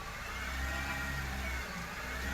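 A car's engine revs as the accelerator is pressed during a test drive after a steering adjustment, producing a steady, loud, close mid-pitched drone that builds slightly, with no speech.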